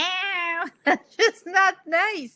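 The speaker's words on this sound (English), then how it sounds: "That's my cat." A pet cat meows in a long, drawn-out, croaky cry followed by several shorter meows, close and loud, with a person speaking briefly between them.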